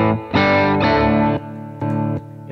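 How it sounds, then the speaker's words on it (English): Clean guitar amplifier pushed into tube saturation, a few sustained distorted guitar chords and notes with a rich, harmonically dense tone, loud and close, separated by brief gaps with no talking. "So, this is saturation from the tube."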